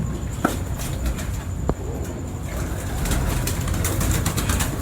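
Pigeons coo close by, with soft low calls over a constant hum of machinery and a couple of sharp clicks.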